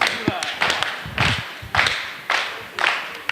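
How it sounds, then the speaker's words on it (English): A wrestling crowd at a CZW Dojo Wars show claps in slow, loud, rhythmic unison, about one clap every half second, with thumps and a voice underneath. "get those claps"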